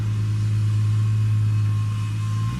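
A 1967 Plymouth Barracuda engine runs steadily on its first drive in 30 years, with a loud, continuous low rumble and no pause throughout. The throttle is prone to sticking.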